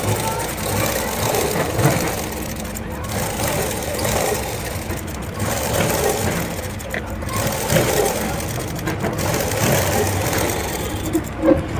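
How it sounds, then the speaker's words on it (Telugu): An electric sewing machine runs in steady, rhythmic mechanical stitching bursts while top stitching a plain blouse, with brief pauses between runs as someone talks throughout. "ఈ కుట్టు పక్క నుంచే కుట్టు వేసుకుంటూ రండి. దీన్ని టాప్ స్టిచ్ అంటారు. టాప్ స్టిచ్ వేసేయండి."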